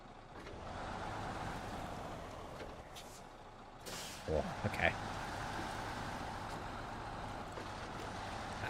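A truck engine in a PS5 driving game, bugged and droning with a steady rough rumble and a high whine, broken near the middle by a few short hissing, air-brake-like bursts, while a person speaks briefly over it.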